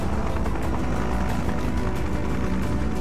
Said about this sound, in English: this is just a heavy cargo helicopter